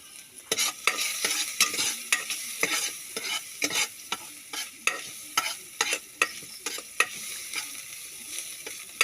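Garlic, ginger and peppercorns sautéing in a hot pan, a steady sizzle broken by repeated sharp scrapes and clinks of a stirring utensil in an uneven rhythm, close and with no talk.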